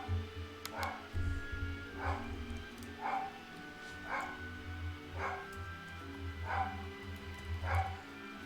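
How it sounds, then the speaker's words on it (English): A dog barks repeatedly in the background, a steady series of short yaps about once per second, fairly distant and moderate in level over a low constant hum. "My dog's barking again."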